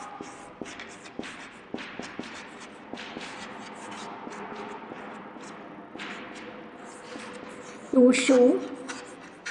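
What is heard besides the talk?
writing on a classroom board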